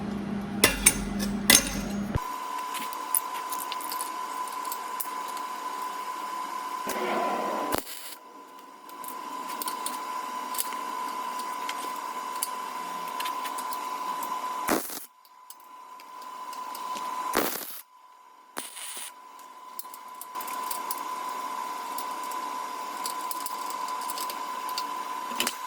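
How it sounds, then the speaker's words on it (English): Steel legs are welded onto a workshop welding table cart, giving a steady electric buzzing hiss in several long bursts separated by short quiet pauses and a few clanks. "now let's weld these up to the legs"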